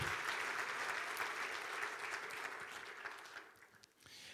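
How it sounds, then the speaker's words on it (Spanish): A church congregation applauds after a sermon, a broad wash of many hands clapping that stays strong and steady, then thins out and fades near the end. "¿Cuánto les dan un aplauso al Señor por su palabra?"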